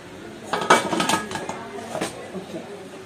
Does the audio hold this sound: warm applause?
no